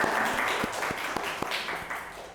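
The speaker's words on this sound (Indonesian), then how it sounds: "Tepuk tangan lu dong, Bos." Scattered audience clapping at an Indonesian talk session about youth ambassadors, a thin ragged patter of separate claps throughout, moderately faint, with no voices over it.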